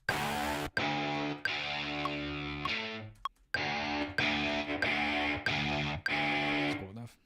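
An instrument played through a Sunburst amp plugin on UAD gives dense, sustained chords struck one after another, with a brief gap near the middle and a few more strums after it, all alone with no voices.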